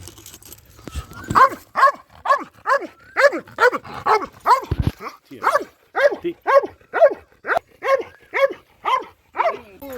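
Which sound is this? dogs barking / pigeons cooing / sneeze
dogs barking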